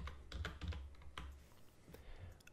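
Keystrokes on a computer keyboard, a quick irregular run of close, crisp clicks over a low steady hum, with no talking.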